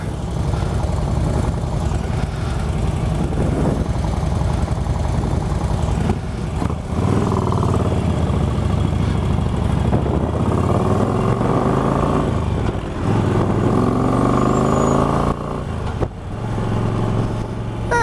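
Two motorcycles fitted with stage 1 upgrades idling loudly up close, then engines revving and rising in pitch through several gear shifts, with stepped tones climbing and dropping before settling back.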